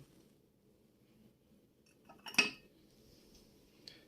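Quiet handling noises, then a sharp metallic clink and rattle as a vintage swan-shaped metal kettle is set down or bumped, followed by a faint second tap.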